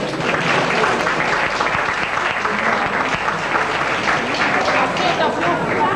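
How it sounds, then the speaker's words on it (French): Steady, loud audience applause in a hall during an evening event, continuous dense clapping for the full six seconds with a busy crowd texture and no letup. "Je voudrais aussi que vous les remerciez d'avance par vos applaudissements."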